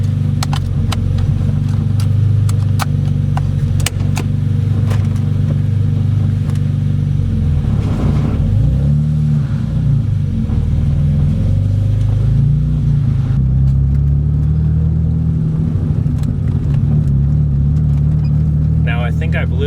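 A turbocharged BMW E30 running Megasquirt engine management pulls away and accelerates, its deep engine drone loud and close from inside the car, rising and shifting in pitch, with some speech over it.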